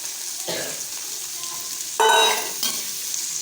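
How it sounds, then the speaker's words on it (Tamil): Onions sauté in a pan for mushroom biryani, a bright steady sizzle broken by stirring scrapes, with a louder burst of frying and clatter midway before settling back. "அதோட வெங்காயம் ஆட் பண்ணுறோம். வெங்காயம் நல்லா வதங்கணும்."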